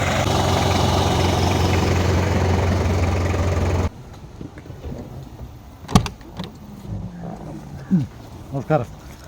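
The engine of a modified Ambassador car idles with a steady, loud, even drone for about four seconds, then shuts off. Scattered knocks and a voice talking follow.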